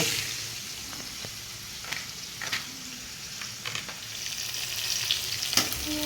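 Vegetables for fried rice sizzle steadily in a hot pan, a continuous frying hiss with occasional louder pops and stirring scrapes, close by and with no voices.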